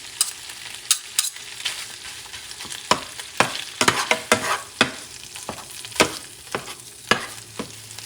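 Corned beef is stirred and broken apart in a large pot, with repeated sharp spoon knocks and scrapes over a gentle sizzle, close and irregularly paced.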